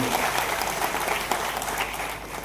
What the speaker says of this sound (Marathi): परत एकदा या समान गुणवंत विद्यार्थ्यांसाठी जोरदार टाळ्यांचा